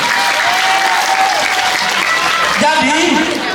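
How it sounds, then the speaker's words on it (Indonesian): An audience at a scout motivation talk breaks into loud, sustained applause, a dense wash of clapping with a voice speaking over it near the end. "tepuk tangan untuk Jenderal Sudirman"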